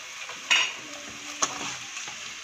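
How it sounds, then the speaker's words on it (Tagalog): Chili garlic prawns being stirred in a pan over low heat after pepper and salt go in, with a soft sizzle under two sharp clinks of the utensil against the pan. "Keep on stirring."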